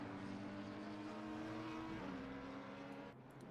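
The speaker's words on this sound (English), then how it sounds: "Should be able to hear the motors good now." Race car engines in the Assetto Corsa Competizione racing game at Brands Hatch drone steadily and faintly, with a sustained layered hum that shifts pitch slightly around two seconds and drops near the end, with no talk.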